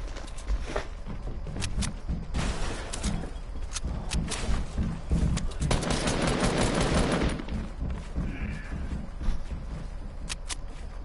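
Gunfire in the video game Fortnite, including shotgun blasts, plays as dense rapid bursts and repeated sharp shots over a busy, loud game soundscape.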